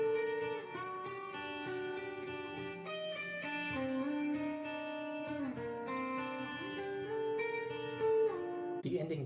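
Clean, bell-like music box melody from a metal song, a steady stream of bright plucked notes with sustained harmonic tones, played alone and fairly soft before a sudden louder burst at the very end.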